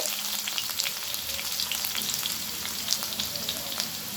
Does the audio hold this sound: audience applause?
no